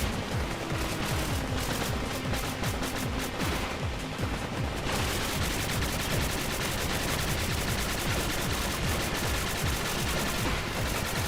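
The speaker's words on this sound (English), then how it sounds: "there's a lot of shooting in this game" Turrets in Spark the Electric Jester 3 keep up dense, rapid automatic fire for over ten seconds, a loud continuous rattle of overlapping shots with brief shifts in intensity and no voices.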